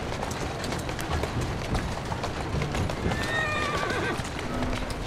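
Hooves clip-clop steadily from a horse in the Assassin's Creed Syndicate video game, with a short whinny partway through, all over constant street and ambient noise.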